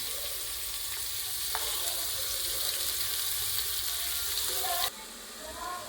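Onions fry in ghee for veg pulao with a continuous close crackling sizzle. A few light clinks of stirring are heard before the sizzle abruptly drops in level near the end.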